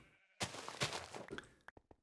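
A sheep in the Minecraft video game lets out a loud bleat, followed by a few short, sharp clicks and blips of game sound.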